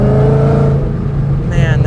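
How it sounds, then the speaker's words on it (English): A 2020 Shelby GT500 under throttle: a loud, close engine drone with a steady rising supercharger whine riding on top, with some tonal revving near the end. "You can hear the supercharger whine."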